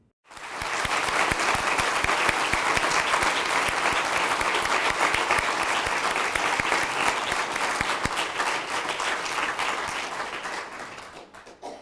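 Room full of people applauding Indiana Educators of the Year awardees as they walk through the crowd, a dense, steady wash of clapping that swells in and holds for over ten seconds before thinning out.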